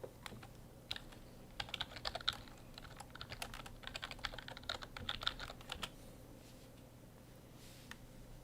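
Clicky computer-keyboard typing in quick irregular bursts of keystrokes, fairly faint and close by, fading to occasional single taps near the end, against a low steady room hum.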